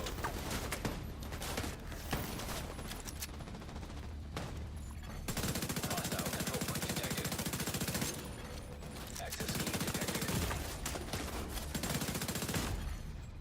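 Dense automatic gunfire rattles through a video game firefight with many enemies. Fire comes in long sustained bursts with short gaps, loud and close, and a faint voice sometimes sits under it.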